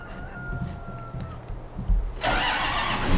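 Tractor engine in Farming Simulator 2013 turning over and catching, a low mechanical rumble that swells abruptly into a loud, full-band roar partway through.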